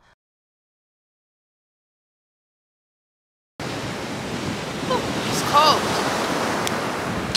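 Ocean waves wash onto a beach as a steady, loud broadband roar, with a brief voice exclamation partway through.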